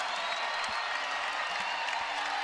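A college wrestling crowd at an Iowa versus Michigan men's dual roars and applauds in a continuous, even wash of cheering and clapping, heard from within a large arena with no single voice standing out.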